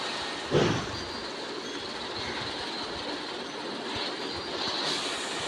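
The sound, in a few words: train running, video game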